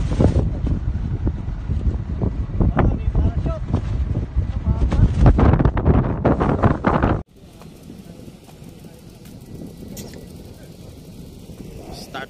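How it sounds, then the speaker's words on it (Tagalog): Strong wind buffeting the microphone with a steady roar at Jebel Jais, Ras Al Khaimah, speech over it early on, then a sudden drop to quieter rushing air. "Kita nyo naman lakas ang hangin eh"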